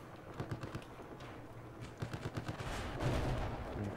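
Gunfire from the Battlefield 4 video game, a dense run of rapid shots and bursts crackling over a loud battle backdrop, with the firing growing heavier toward the end.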